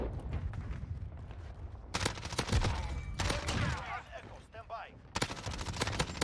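Sharp pistol shots and bursts of gunfire crack through a match of the video game Modern Warfare 2019, loud and close in irregular clusters, with a voice talking between them.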